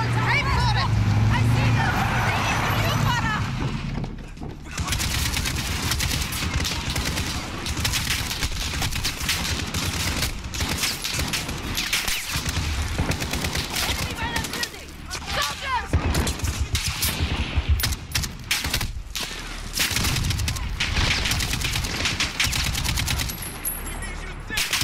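Sniper and weapon fire in the Call of Duty Modern Warfare video game during a Russian prison escape, dense bursts of gunshots and rapid automatic fire, loud and sustained, mixed with someone speaking and battlefield noise.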